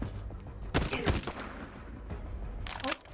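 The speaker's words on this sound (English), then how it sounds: "It firing from the hip is quite decent still" Gunfire in the video game Void Train, a weapon fired from the hip in quick bursts of rapid shots, loud and close with a short pause between volleys.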